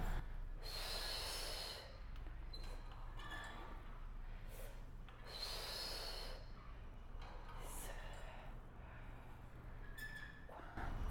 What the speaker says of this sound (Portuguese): Soltando o ar na ida e inspirando na volta.